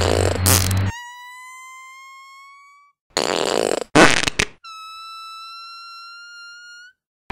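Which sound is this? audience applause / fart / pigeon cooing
fart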